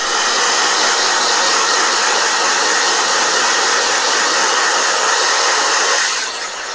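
A blow dryer blasts steadily, clearing cobwebs off paintings, a dense close whoosh that holds level before dropping slightly as it shifts at the end.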